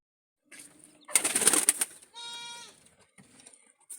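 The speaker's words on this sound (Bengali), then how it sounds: "আমি কিছু কবুতর দেখাই আপনাদের।" Pigeons at a loft give a burst of wing flapping followed by soft bleating, cooing calls, close and fairly quiet, with faint voices in the background.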